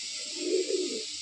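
A Madrasi pigeon at a breeding loft gives a single short, soft, throaty coo close by, alone against a faint background hiss.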